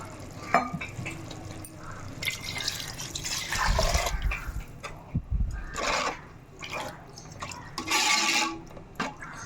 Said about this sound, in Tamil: இப்போ இதில் ஒரு படி அரிசிக்கு ஒன்றே முக்கால் படி அளவு தண்ணி சேர்க்க போகிறோம்